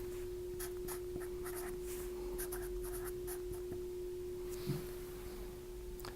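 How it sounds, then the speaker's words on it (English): A pen writing on paper while working a chemistry problem, quiet scratchy strokes in short bursts over a faint steady electronic hum, no talk. "So let's write that down."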